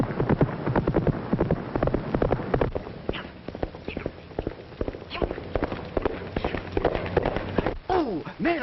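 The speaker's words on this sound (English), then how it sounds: "Oh, man, I sure would like to ride that horse" Galloping horse hooves under loud, continuous excited talk and shouting from a group of people, the rhythmic clip-clop partly buried beneath voices.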